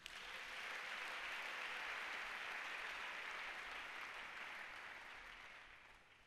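A church congregation breaks into sustained applause for the Lord, a dense, steady roar of many clapping hands that holds loud throughout and eases slightly at the end, with no talking over it.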